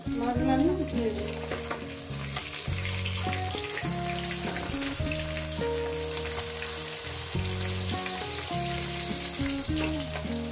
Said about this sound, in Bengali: এই করে আমি মাছগুলো একেবারে ভেজে নিয়ে ফিরছি